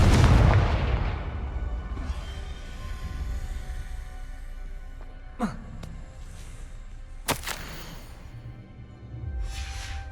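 A Confringo fire spell bursts in Hogwarts Legacy, a loud booming explosion at the start that rumbles and fades, followed later by two sharp crackling impacts amid low game ambience.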